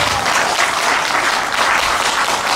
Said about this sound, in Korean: 여러분 뜨거운 박수 한번 주시기 바랍니다